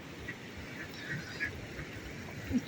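A few soft, uneasy duck quacks sound faintly over a low, steady outdoor background in Hatay on an earthquake morning, scattered across a couple of seconds.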